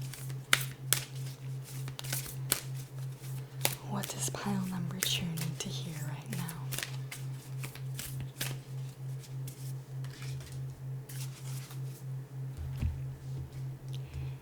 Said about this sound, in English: I will now draw a Moonology card to see what the moon wants to communicate regarding your money.